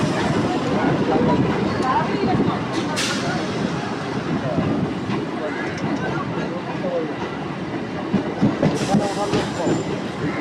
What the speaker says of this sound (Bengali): আমাদের ট্রেন এখন বর্তমানে রিষড়া স্টেশনে প্রবেশ করেছে।